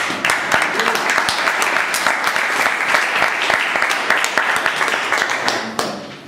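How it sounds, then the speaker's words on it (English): An audience at a Toastmasters meeting breaks into steady applause, a full, continuous patter of many hands clapping at close range that fades in the final moment. "So, please give him a round of applause."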